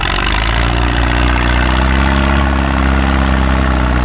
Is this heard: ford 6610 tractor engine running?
yes